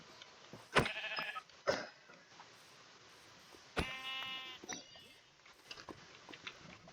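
A dark gray sheep in Minecraft bleats three distinct times, two close together and one after a pause, over a faint, quiet background.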